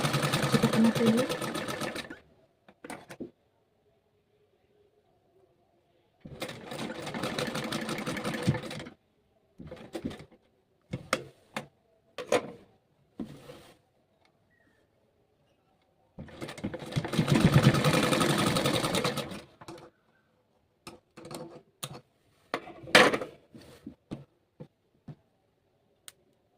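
A sewing machine stitches a pocket onto an A-line kurti in bursts: three long runs of steady whirring separated by short taps and pauses, close and clear, with no talk during the stitching.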